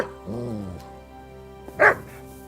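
A dog in the video game Kingdom Come: Deliverance 2 gives a single short, loud bark close by after a calm stretch, with a faint whimpering tone just before it.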